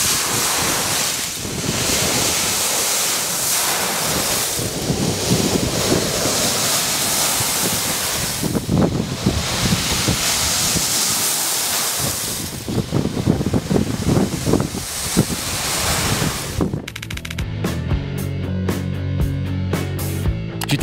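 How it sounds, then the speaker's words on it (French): Waves of ice slush wash ashore in a continuous roaring surge, the swells rising and falling under heavy wind buffeting before a sudden change in sound near the end. "Les vagues de glace sont plus agréables à écouter que les vagues normales."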